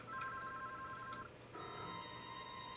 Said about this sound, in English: Actually, let's answer this phone first.